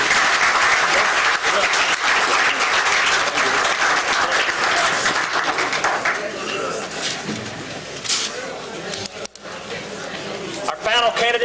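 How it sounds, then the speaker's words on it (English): Sustained audience applause fills a candidate forum hall during live coverage of the 2018 Glasgow/Barren County Political Forum, loud and dense at first, then thinning and tapering toward the end with a few scattered claps. "Let's give them a round of applause."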